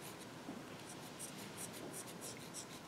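A water-soluble pencil scratches across dress fabric in short, faint rubbing strokes, close up and quiet, with no talking.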